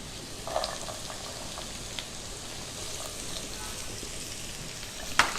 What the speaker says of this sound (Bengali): এখন বাকি সবজিগুলো আমি দিয়ে দিব।